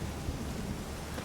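Rain in the video game The Witcher 3, a soft, continuous hiss of falling rain at low level, steady throughout the short stretch with no voices.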